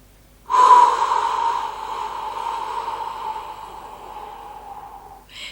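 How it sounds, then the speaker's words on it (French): A single deep inhale through the nose followed by a long, steady exhale through the mouth during a gentle autumn yoga session, close and breathy, with no talk. "vas prendre les inspirations par le nez. Et on va expirer par la bouche"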